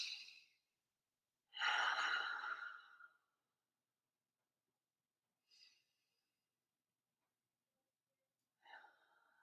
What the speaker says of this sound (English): I'm going to take a couple of big breaths.